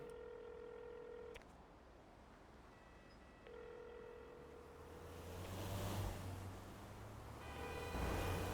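A phone being dialed in a GTA roleplay game: steady beeping tones in several separate bursts, with ocean surf swelling behind them toward the end, with no talk.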